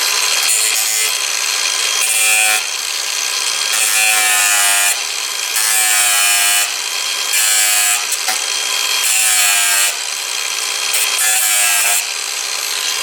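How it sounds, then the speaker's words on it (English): An angle grinder cuts through steel bars inside a 2002–2009 Toyota Prius, a loud, continuous high-pitched grinding whine that swells and dips in several long passes without talk. "now I have to cut carefully these two steel bars in here, my angle grinder"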